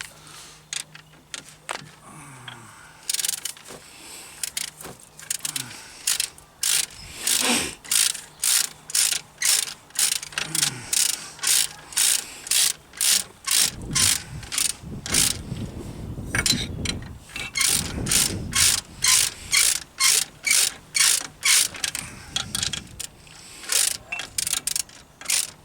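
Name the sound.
tightening brake caliper bolt on Jaguar X-Type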